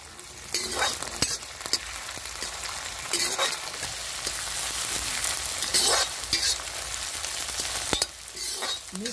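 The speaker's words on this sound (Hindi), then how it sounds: "कटा बारीक अदरक, अब इसे थोड़ा सा भून लेते हैं" Finely chopped ginger and green chilli frying in a pan, a steady close sizzle with crackling bursts and occasional scraping of a spoon stirring, no talking.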